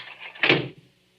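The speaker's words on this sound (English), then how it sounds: "Close the door, quick." A door shuts in an old-time radio drama, one short, close thud and latch that fades quickly into quiet.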